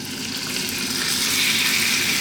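Leg pork dropped into hot sunflower oil in a wok for a Chinese stir fry, a loud close sizzle that surges and swells into a steady rushing hiss.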